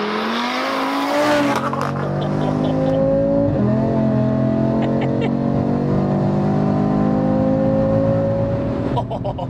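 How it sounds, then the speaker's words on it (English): An Audi RS3 8Y with an RS Performance exhaust and 520 bhp accelerates hard. The engine note climbs loud and close, shifts once, then holds a sustained roar through the pull. "I think we should get it fired up and go for a drive."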